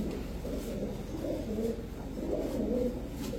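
Soft, low cooing of pigeons repeats in gentle waves over a quiet background hum, faint and unhurried.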